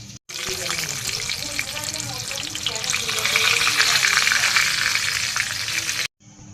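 Chicken fries in oil with a loud, close, continuous sizzle that swells toward the end, then cuts off abruptly with a short gap before it resumes. No one speaks.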